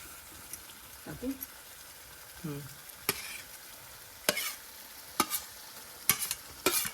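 Wild shevla vegetable being added to a pan of ground masala paste and stirred, with intermittent sizzles and scraping strokes, a few louder clatters of the spoon against the pan, and no talk.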